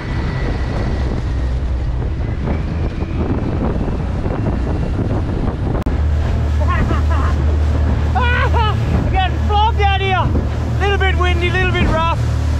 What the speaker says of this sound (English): Windy, little bit rough.